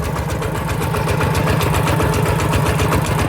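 The engine of a walk-behind tractor plows soft soil on a second pass through the field. It drones in a steady, close, rhythmic chug with a fast knocking pulse, alone and without speech.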